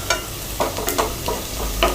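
Onions sautéed for prawn pulao are stirred in a pan: a series of distinct spatula scrapes in an uneven rhythm over a light, steady frying sizzle. Nobody speaks.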